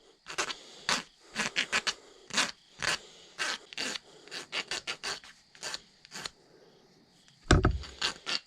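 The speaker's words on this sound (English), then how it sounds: "You kind of want to shape up the other end with the file." Steel file rasping over the end of a wooden powder horn peg in a rapid series of close, even back-and-forth strokes, with a short heavy knock near the end.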